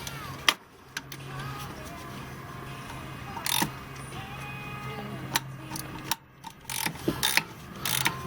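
A hand ratchet loosens 10 mm bolts on the thermostat housing of a 1996–2000 Honda Civic, with rapid clicking pawl bursts and metallic clinks close by over a low steady hum, with no talking.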